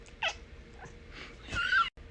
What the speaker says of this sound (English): Cooter, why does your whole body move when you meow?